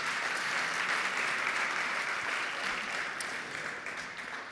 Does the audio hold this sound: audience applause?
yes